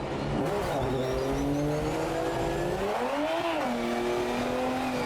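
Car spinning out in the racing game Project Motor Racing, a loud close engine roar whose pitch swoops up and back down as the tyres squeal through the spin.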